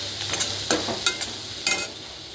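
Turmeric and chili powder sizzling in hot oil while being stirred, a steady close-up frying hiss broken by soft scraping stirs.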